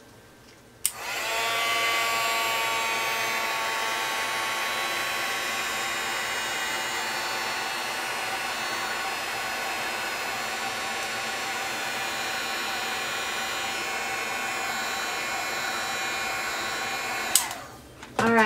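A heat tool blows steadily, close and continuous, for about sixteen seconds, melting a layer of embossing powder on stamped Versamark ink, then clicks off.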